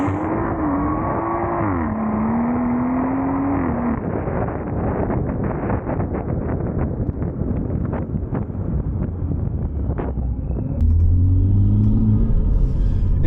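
A BMW M140i engine with Stage 2+ tuning drones and rumbles while driving, its intake note rising and falling with throttle, with wind noise and a louder surge near the end.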